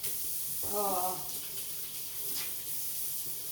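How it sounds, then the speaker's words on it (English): A tap running steadily into a sink while hands are washed, a soft, even hiss that continues throughout, with a brief voice speaking over it. "let me give my hand a quick wash"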